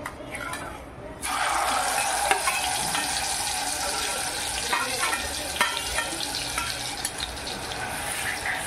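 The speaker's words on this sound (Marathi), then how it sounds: "आता आपलं हे तेल तापलेलं आहे। आता आपला मसाला आपण भाजून घेऊया।" Ground cumin and coriander powder masala roasting in hot oil for matar paneer, a loud steady sizzle with light stirring scrapes that starts abruptly after a quieter moment and continues close up without talk.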